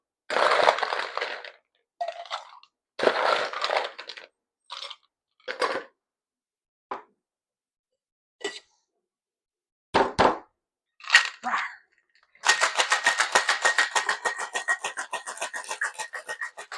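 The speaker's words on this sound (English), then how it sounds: "fill our shaker tin up with ice, shake for about 15 to 20 seconds or until the shaker tin is ice cold in our hands" Ice shaken hard in a metal cocktail shaker tin while mixing a strawberry margarita, heard as loud separate bursts of rattling and crunching that give way to a steady, rapid run of shakes at the end.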